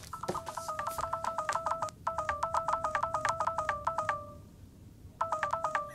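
An LG Nexus 4 smartphone rings with a bright, repeating electronic ringtone. Rapid two-tone pulses run in bursts with short gaps, sounding close and steady over a low background rumble.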